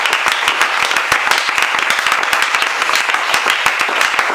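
A church congregation at an evening service claps loudly and steadily, many hands in a dense, even ovation close around the listener with no break.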